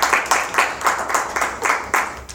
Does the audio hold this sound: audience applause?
yes